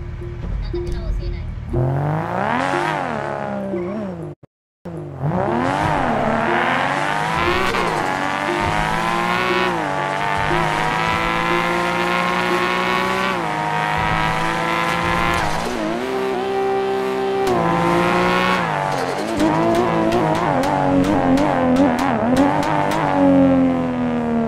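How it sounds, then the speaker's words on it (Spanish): A tuned car popping and crackling on downshifts while braking, loud and close, its engine pitch sweeping up and down through gear changes, with a short cut near the start and a voice exclaiming over the noise. "Eso que ustedes escucharon es cuando el carro baja los cambios."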